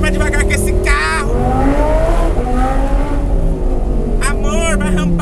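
An Audi R8 sports car's engine drones loudly and steadily from inside the cabin, rising in pitch as it accelerates, while people talk over it.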